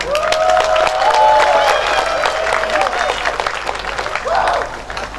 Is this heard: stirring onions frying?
no